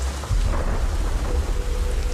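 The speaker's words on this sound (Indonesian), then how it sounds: "Suara petir menyambar dan hembusan angin sampai terdengar ke dalam ruangan kerjaku." Heavy rain pours continuously during a late-afternoon storm with thunder and gusting wind, a dense, loud roar with deep rumbling underneath, heard from inside a work room.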